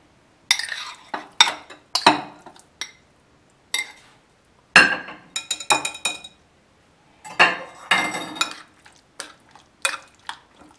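Chicken mixed into a marinade in a bowl for chili chicken pasta, giving irregular bursts of spoon-on-bowl clinks and wet scraping with short pauses, close and moderately loud, no talking.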